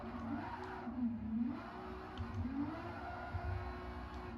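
A turbocharged front-wheel-drive car with a swapped engine accelerates through first and second gear, its engine note rising and falling. The sound is faint and steady with no talking.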